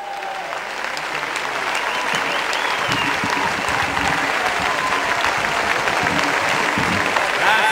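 Audience applause greeting the comedian Flavio Oreglio as he is introduced on stage at a political rally in Imola: a dense, steady wash of clapping from a large crowd that holds at full strength from start to finish.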